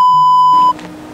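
A loud, steady electronic beep holds for under a second and then cuts off, leaving a quieter room murmur.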